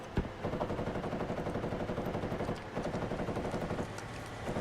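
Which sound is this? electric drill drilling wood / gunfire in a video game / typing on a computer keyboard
gunfire in a video game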